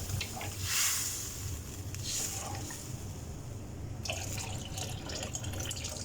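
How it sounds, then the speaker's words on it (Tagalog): Water pours into a pan for pancit with a soft, continuous splashing and trickling, faint and close, with brighter hissing bursts near the start and again toward the end. "Lagyan natin ang tubig."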